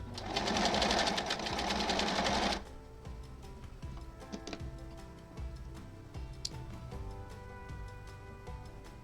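Sewing machine back tacking a seam on a quilt block, a dense steady whir for the first two and a half seconds, then stopping and giving way to light ticks and clicks.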